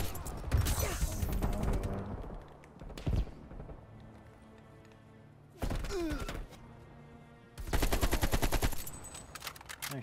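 Bursts of automatic gunfire from an AK-47 in the shooter game Black Ops Cold War, with rapid-fire volleys separated by short quiet gaps and single sharp shots in between.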